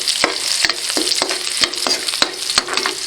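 Onions frying in a pan for binagoongang baboy, stirred with a utensil in a steady rhythm: about seven distinct scraping strokes over a continuous close sizzle, with no talk.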